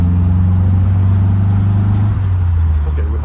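A Triumph TR4A, running rough and short of power on a new set of spark plugs, drones loudly and steadily at low pitch while driving, with a constant rumbling hum throughout.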